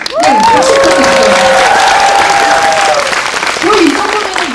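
An audience at a film talk event claps loudly and continuously, with light cheering, while a voice rises over the applause.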